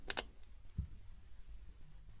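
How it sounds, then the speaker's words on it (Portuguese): A piece of adhesive tape cut to size while crafting a t-shirt-yarn bag, heard as two quick, sharp clicks close together at the start, then a faint low thump in a quiet room. "agora eu vou cortar um pedaço dessa fita ou durex"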